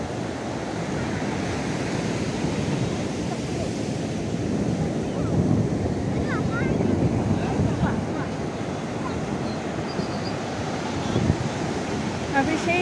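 Surf rolling in steadily at Puri beach on the Odisha coast, a broad continuous wash of breaking waves with wind buffeting the microphone, close and fairly loud with swells rising and falling throughout.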